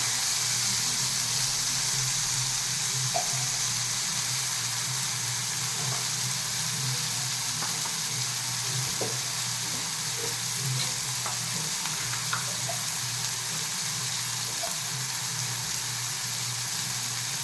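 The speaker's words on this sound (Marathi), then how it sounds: "आपल्याला थोडा वेळ याला थोडंसं तळू द्यायचं आहे, नरम होईपर्यंत" Vermicelli frying in a pan until soft, a steady close sizzle and crackle with occasional faint stirring clicks, continuous throughout with no talking.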